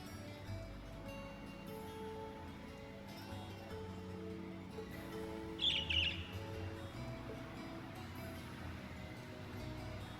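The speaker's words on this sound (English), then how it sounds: "A bird?" In the Trails of Cold Steel video game, a single brief, high bird chirp rises partway through over a soft, steady ambient music bed.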